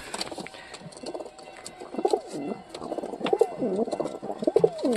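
A pigeon kept in a home coop at night coos nearby in repeated soft, throaty rolling phrases, coming more often in the second half against quiet background rustle.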